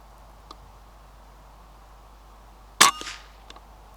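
An air rifle fires a pellet at a rabbit from about 30 yards in the countryside, a single sharp crack followed by a brief metallic ring, with a few faint ticks around it in near silence.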